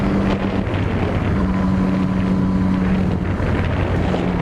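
Yamaha XJ6 and Honda CBR650F motorcycles cruise along a road, their engines a steady droning hum under heavy wind buffeting on the microphone, with no distinct revving peaks.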